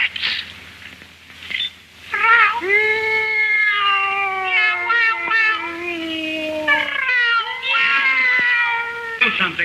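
A cat meows repeatedly at close range in a series of long, loud, drawn-out yowls with short pauses between them, alone.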